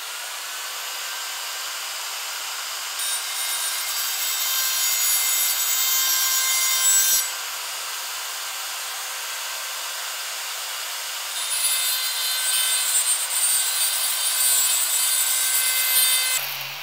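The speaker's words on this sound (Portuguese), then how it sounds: "Vou começar com essa fresa aqui, ó, da retífica." A rotary tool fitted with a small burr bit carves wood, giving a close, steady high-pitched whine with a grinding edge that swells in two long passes and eases between them, no talking.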